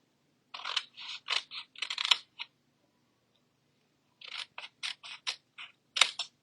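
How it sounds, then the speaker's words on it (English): Scissors snip through cardstock up to a score line for a handmade card, two quick bursts of short crisp cuts separated by a quiet pause, close and alone. "on my last score line on this side, I'm just cutting up to the score line again."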